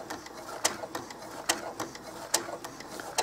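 A sewing machine running at its slowest speed while topstitching doll clothes, with sharp regular clicks about every half second over a soft mechanical hum, close and quiet.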